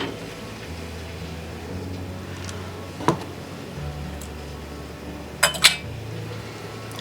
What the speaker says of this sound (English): pull out the next jar and get it ready